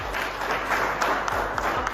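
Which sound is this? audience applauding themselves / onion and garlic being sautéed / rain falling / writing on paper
audience applauding themselves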